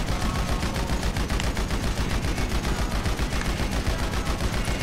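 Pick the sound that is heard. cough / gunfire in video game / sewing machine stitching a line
gunfire in video game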